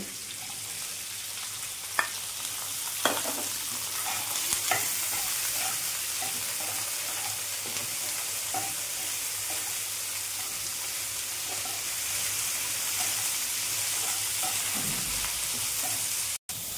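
Figs and raw mango frying in a pan for a Bengali fig chutney, with a steady broadband sizzle and hiss throughout and a few sharp knocks of a spoon stirring near the start.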